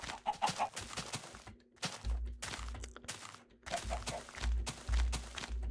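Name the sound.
chickens clucking in the video game Minecraft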